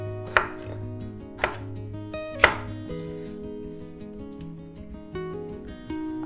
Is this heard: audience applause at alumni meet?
no